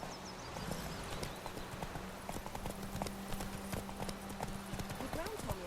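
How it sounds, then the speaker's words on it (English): Horse hooves gallop in The Witcher 3 in a steady, rapid clip-clop that runs the whole time at moderate loudness, with character voices talking over it. "Run, Roach."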